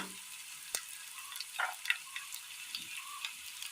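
Mustard seeds splutter in hot oil, a faint low sizzle broken by sparse, irregular little pops and crackles, with no talking.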